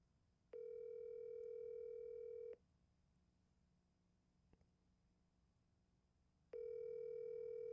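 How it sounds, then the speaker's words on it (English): A phone call ringing out, two long steady ringback tones about two seconds each, separated by several seconds of quiet line hiss with a faint click in between. "I'm calling from a different number right now"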